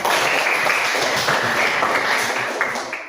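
Children in a classroom applaud together, a dense, continuous patter of many small hands clapping that fades slightly at the end.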